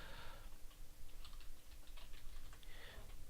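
Computer keyboard typing in a quiet room, a steady run of light, close key clicks lasting a few seconds with no talk over it.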